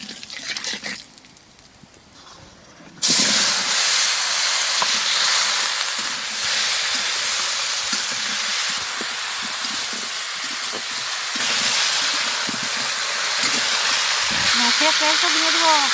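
Black cumin, salt and turmeric hit hot oil in a pan after fish frying, setting off a sudden loud, steady sizzle and hiss that carries on throughout, with a voice talking briefly over it.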